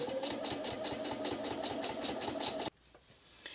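Sewing machine back tacking a seam on an art quilt, a fast rhythmic whirring chatter that runs steadily for a couple of seconds before cutting off abruptly into near quiet.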